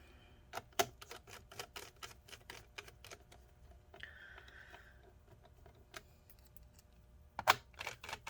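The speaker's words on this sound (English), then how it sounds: "get the last 3 screws at the bottom" Small screws being backed out of the bottom case of a Dell Inspiron 15 5584 laptop produce a series of close, crisp ticks and clicks at irregular intervals, with a brief faint squeak midway and a sharper click near the end.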